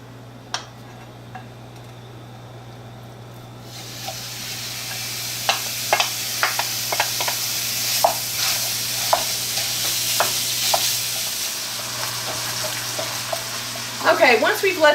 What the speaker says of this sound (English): I've got my large nonstick sauteuse on over medium-high heat. We're going to start by browning this ground beef.